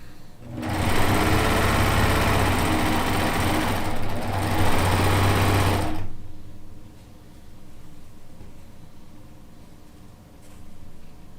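Cover stitch serger sewing machine stitching a quilt in one loud, steady whirring run of about five seconds, then stopping to a quiet background hum.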